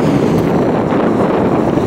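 Strong wind blows across the Baltic coast near Kellenhusen and Dahme, a loud, steady buffeting rush hitting the microphone with a low rumble and no voices.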